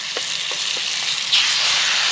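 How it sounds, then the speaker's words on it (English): Steaks fry in a hot pan with a bright, steady sizzle and hiss, close and continuous, with a few small pops early on. "Right, now time to get the steaks in."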